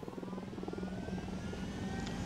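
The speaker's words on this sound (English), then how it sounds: "All right, let's head back into the chopper." A helicopter in the Ghost Recon video game hums and thrums steadily with a rhythmic rotor beat, fairly close and continuous, with no one talking over it.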